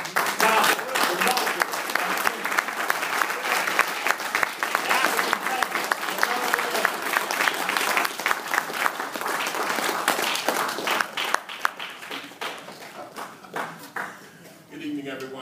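Sustained applause and clapping from an audience at a lecture, steady and dense for most of the stretch before thinning out toward the end.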